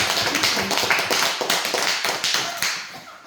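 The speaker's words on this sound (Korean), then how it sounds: "박수로 좀 쳐주세요." Church congregation applauding, a steady spread of many hands clapping together at moderate loudness for a few seconds with no talk.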